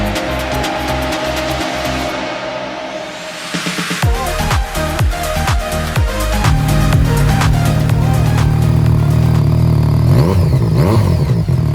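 A 2016 Yamaha XSR900 ABS motorcycle's engine idles with a close, mechanical clatter, then is blipped through several sharp revs that rise and fall before settling into a loud, sustained higher idle, with no one speaking.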